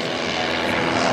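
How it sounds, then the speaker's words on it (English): Fokker Dr.1 triplanes fly together overhead, their engines forming a brief, loud, steady propeller drone that fills the air with no talking. "there's been all these planes this time flying at the same time"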